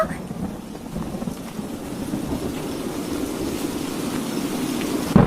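A thunderstorm with heavy rain and wind makes a steady, loud roar of downpour and low rumbling that runs without pause, with no one speaking.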